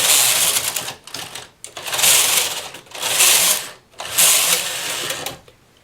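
A knitting machine carriage makes lace transfers, with four loud, close passes of rattling, whirring mechanical clatter separated by short pauses.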